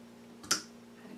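A bottle of coffee porter is opened with a single short, sharp hiss-and-pop burst lasting a fraction of a second against a quiet room.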